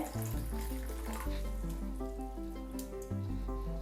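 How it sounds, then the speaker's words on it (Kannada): Fresh water is poured over rice flakes in a bowl for rice-flake puliyogare, producing a continuous splashing trickle that sits under steady background music with no speech. "ಇವಾಗ ಫ್ರೆಶ್ ಆಗಿರೋ ನೀರನ್ನ ಆ್ಯಡ್ ಮಾಡ್ತಿದ್ದೀನಿ"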